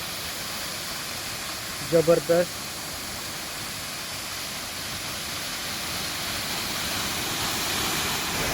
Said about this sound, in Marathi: हे पहा एकदम मस्तपैकी पडतोय धबधबा आणि हे धबधब्याचे नाव आहे सवतकडा